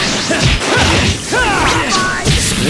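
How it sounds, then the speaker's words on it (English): Loud crashing impacts and swishing sweeps from an explosion storm attack in Naruto Shippuden: Ultimate Ninja Storm Revolution, layered with shouting voices and sharp game effects. "Fire! Explosion storm!"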